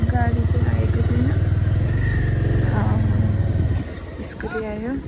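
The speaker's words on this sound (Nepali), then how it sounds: "स्कुटी आयो।" A scooter rumbles up a rural road in Nepal, its engine loud and steady at close range before easing off near the end, with voices talking over it.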